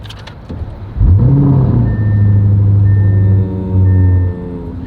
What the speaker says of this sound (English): let's go ahead and start this car up